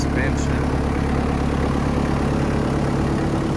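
A 1994 Toyota Land Cruiser KZJ77 3.0L turbo diesel idles steadily through a custom stainless exhaust with dump pipe, a low, even rumble and faint exhaust drone, running continuously without any revving.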